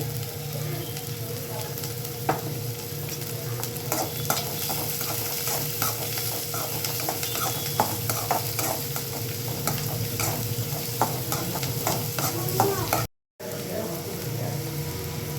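Onion and cumin sizzle steadily in a pan with garlic and green chillies while a spoon scrapes and stirs in a regular rhythm, close and continuous, with a very brief dropout near the end.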